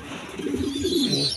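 A tired, double-banded pigeon, a tame loop visitor, coos close by in low, soft, continuous rolling notes.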